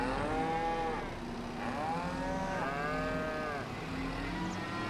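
Cattle mooing in the farming game Farming Simulator 25, several long drawn-out moos close by and loud, overlapping one another across the whole stretch over a steady farmyard background.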